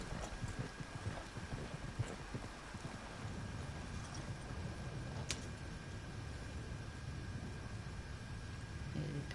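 Horse hooves clip-clop steadily in Red Dead Redemption 2, a quiet, even rhythmic patter under low background wind, with one sharp click partway through and no talk.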